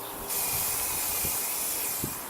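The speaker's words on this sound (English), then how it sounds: "you can get a really good coverage and spray all the way around without getting your hands dirty" PlastiKote aerosol spray paint hissing steadily as garden pots are coated, a close, continuous spray after a brief quiet start, with faint knocks underneath.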